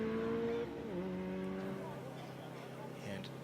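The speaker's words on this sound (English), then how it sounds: "Engine sounds healthy." A race car climbs the Pikes Peak hill climb course, its engine droning with shifting pitch as it rounds corners. The sound is faint and distant, with commentary talk running over it.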